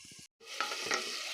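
Pumpkin and meat cook in a pan with a close, steady sizzle, broken by a short gap of silence and a few soft stirring scrapes.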